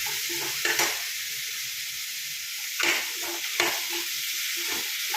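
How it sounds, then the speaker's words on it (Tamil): Onion, tomato, cinnamon and chili sautéing in a pan, with a steady sizzling hiss and occasional scraping bursts as the mix is stirred. "நான் வெங்காயம், தக்காளி, பட்டை மிளகாய் 3ஐயும் போட்டு வதக்கிட்டு இருக்கேன்"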